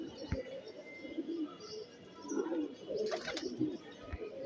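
Pigeons, including a racing-result breeding bird with a silver-toned daughter, coo softly in low rolling phrases amid clicks, wing rustles and a quiet, busy loft background.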